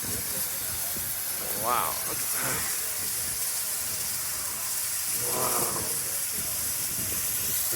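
Steady broadband hiss of steam from the CP 2816 steam locomotive, loud and continuous throughout, with a voice exclaiming briefly over it twice.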